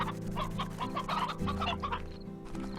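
A hen clucks repeatedly in Slime Rancher, the game's chicken sounds near and steady over a sustained musical drone.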